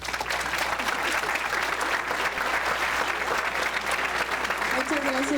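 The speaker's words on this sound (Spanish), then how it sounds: "Demos un aplauso" Sustained audience applause at the close of a lecture on orbital corrections in planetary motion, a dense steady wash of clapping throughout, with a voice beginning to speak near the end.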